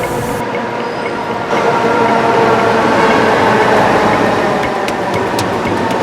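A Manila MRT metro train rumbles loudly and continuously, with a steady roar of wheels and motors that swells slightly after the first second and holds without talk.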